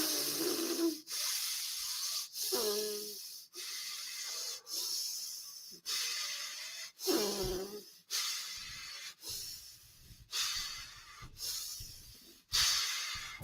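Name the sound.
breathing out through the mouth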